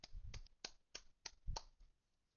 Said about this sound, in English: That deserves some claps.